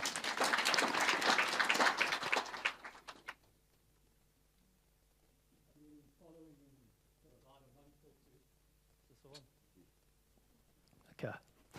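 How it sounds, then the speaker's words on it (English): An audience at a church gathering breaks into a short burst of applause that cuts off abruptly, followed by quieter talking in the room. "Give him a warm round of applause."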